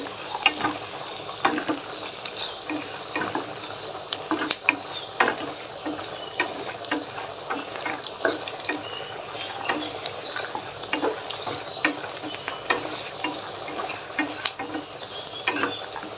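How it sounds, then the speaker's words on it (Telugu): Cashews frying in a pan for a Telugu kattu pongali dish, giving a steady close sizzle broken by frequent sharp scraping and clicking stirs, with no voices. "కొంచెం జీడిపప్పు వేసుకున్నాం కొద్దిగా వేపుకున్నాం మంచిగా"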